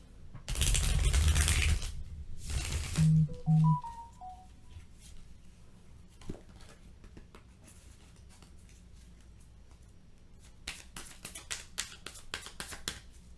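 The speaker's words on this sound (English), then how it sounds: "we're going to just shuffle one time" Tarot cards are shuffled in a quiet room: a loud riffle and rustle at the start, brief tones midway, then a run of sharp card snaps and flicks toward the end.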